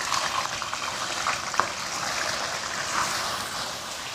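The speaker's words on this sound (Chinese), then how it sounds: "下入鲫鱼给它煎制。" Crucian carp frying in oil in a wok, a soft continuous bubbling sizzle with a faint clink, fairly close and steady.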